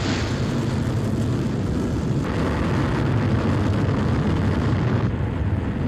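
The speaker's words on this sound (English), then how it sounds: "It all begins with launch, aboard a Delta IV Heavy rocket." A Delta IV Heavy rocket launches with a continuous, loud broadband roar that holds steady throughout, dense and rumbling with no voices.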